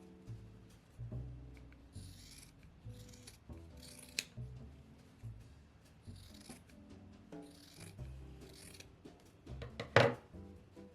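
Scissors snipping through fabric to trim a crisp edge on a sewn coaster, a run of soft, close rasping cuts in an uneven rhythm, with one sharper snip near the end and no talking.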